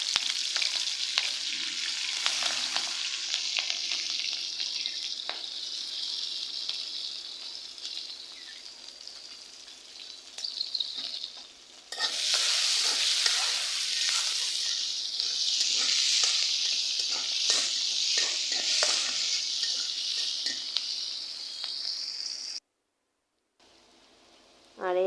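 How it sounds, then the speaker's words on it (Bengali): Onion and green chili fry in hot oil in a pan as the base for a bottle gourd curry, a loud continuous sizzle with stirring scrapes that swells after a brief pause and cuts off near the end. "তো এখানে আমি দিয়ে দেবো তেল, লাউ রান্না করব তার জন্য। আর দিয়ে দেবো কাঁচামরিচ, পেঁয়াজ।"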